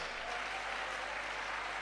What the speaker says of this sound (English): give them a very good round of applause as they go up